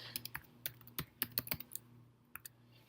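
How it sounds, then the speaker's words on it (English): Keys on a computer keyboard clatter in short irregular bursts of taps, close and fairly quiet, over a steady low electrical hum, with pauses between runs of typing. "we're just going to type in some basic information here."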